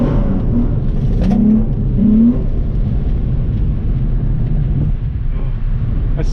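A car drifting with the engine rising and falling as the driver lifts off and gets back on the gas, a loud steady roar with wind buffeting the microphone and brief voices mixed in.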